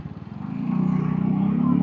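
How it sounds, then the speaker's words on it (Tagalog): Road traffic passes near a Vespa Primavera scooter, a rising engine drone that swells over under two seconds, close and moderately loud. "Oops, ang traffic pala dito."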